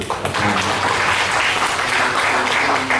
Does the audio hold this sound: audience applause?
yes